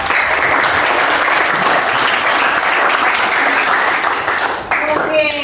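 Students in a classroom applaud together, a dense, steady round of clapping that holds loud and even for several seconds before dipping briefly and swelling again at the end.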